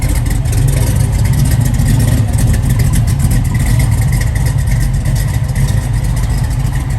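A 1969 Chevrolet Camaro with a mild cam and 700R4 overdrive transmission idles loudly and close, a steady low rumble with a fast, even pulse and no talking.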